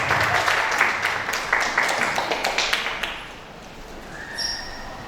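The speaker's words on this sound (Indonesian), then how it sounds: "Tepuk tangan, teman-teman." An audience at a literature session of the Yogyakarta culture festival applauds to welcome a speaker. Dense, close clapping lasts about three seconds and then fades, followed by a few faint tones and a brief murmur.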